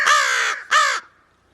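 Two loud, harsh crow caws in close succession, each about half a second long, heard near and alone, followed by quiet.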